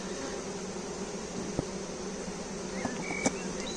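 Honeybees flying back to their hive, a soft steady buzzing drone close by with a few brief individual passes and small clicks over a quiet background.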